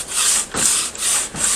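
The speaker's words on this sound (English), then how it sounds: "I'm going to sand on this just for a little bit" Sandpaper rubbed by hand over the wood of an amateur-built guitar, three long rasping strokes separated by brief pauses, close and loud, with nothing else heard.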